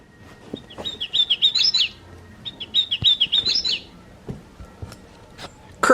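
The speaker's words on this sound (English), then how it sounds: "Hooded warbler." A Wild Republic plush toy bird plays a recorded hooded warbler song: two bright, rapid whistled phrases in close succession, fairly loud and near, with faint handling noises and a brief click near the end.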